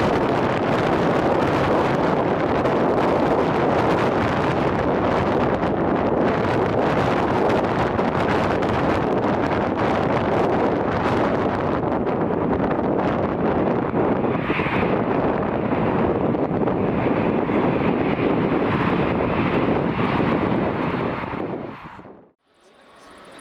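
Storm Eowyn gusts roar across Birmingham airport as an EasyJet aircraft departs, a loud, steady rush of wind buffeting the microphone that fades out sharply at the end.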